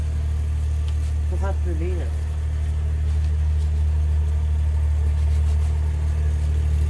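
Tractor engine runs nearby as a loud, steady low drone throughout, with a brief spoken remark early on over the rumble.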